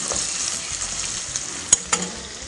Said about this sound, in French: Nos morceaux de viande ont commencé par dorer.